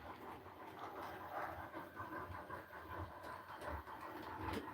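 A model train locomotive runs along its track, producing a faint, steady rolling rumble with light clicking from the rails, with no voices heard.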